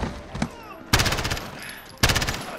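Machine gun fire in the video game Call of Duty: Modern Warfare, loud close bursts that start suddenly and repeat twice, each a dense rattling volley, with quieter game sounds between them.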